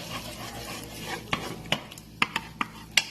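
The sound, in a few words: stirring chicken macaroni in a pan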